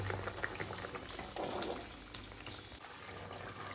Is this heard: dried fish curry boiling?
yes